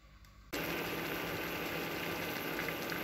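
Water boils vigorously after a sudden onset, a loud, dense, continuous bubbling roar close up with no talking, its temperature checked with a Parkside PTIA 1 thermometer.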